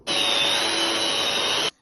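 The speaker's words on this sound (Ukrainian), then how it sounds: "Тепер потрібно шліфанути гіпсову штукатурку." A power sander grinds steadily against gypsum plaster in a continuous, loud whirring burst that starts and stops abruptly, with no talking.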